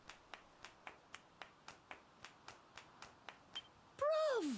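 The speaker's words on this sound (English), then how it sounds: "He just can't stop clapping." A Dragon Quest VII Reimagined character claps nonstop, about fourteen quick, light, evenly spaced claps at moderate volume, ending in a bright swooping game sound effect.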